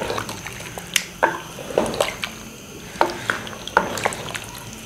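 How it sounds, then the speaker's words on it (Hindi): Water poured into a pot of fried beef and potatoes, giving close, irregular splashes and drips in a kitchen without talk. "इसमें 2 गिलास हमने पानी डाल देना"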